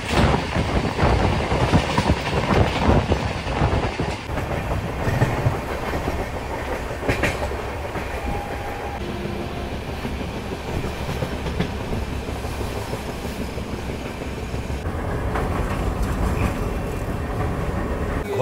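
A passenger train travelling by rail to Gaya rumbles and clatters steadily over the tracks, loud and close, with the noise easing slightly midway before building again.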